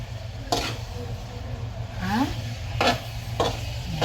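Pork liver sizzles as it is stirred and sautéed for pork menudo, a steady low frying hiss broken by a few sharp scraping stirs of the spoon against the pan, with a brief murmur of voice.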